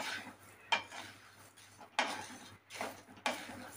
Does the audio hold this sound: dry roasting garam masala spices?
yes